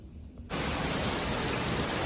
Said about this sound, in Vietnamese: Ngoài trời đang mưa quá trời mưa luôn